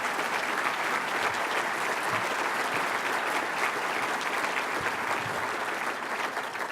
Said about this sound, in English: please give a round of applause for our new Commerce Secretary